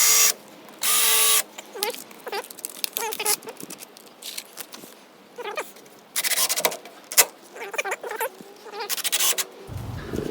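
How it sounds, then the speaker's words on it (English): A drill spins a bit to recess holes in a wooden porch post wrap, giving bursts of high whining bites between pauses, close and moderately loud, with no one talking. "So I'm using this bit to recess it."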